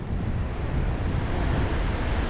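A constant roar of surf and gusting wind at Montrose Beach, Scotland, fills the air, heavy low rumble with no pauses, close and loud.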